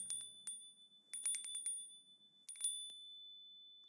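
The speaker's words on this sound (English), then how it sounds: "For those, I recorded lots of takes with this Japanese bell." A small Japanese bell is struck in separate takes, bright metallic rings in short clusters, each strike clear and close with a quick decay, set against near silence.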